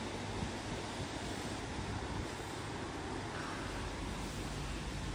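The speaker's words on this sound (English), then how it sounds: "It's windy, it's a bit rainy." Constant blustery wind roaring across the microphone with a low rumble on a rainy day of pike fishing, steady and unbroken throughout, no voices.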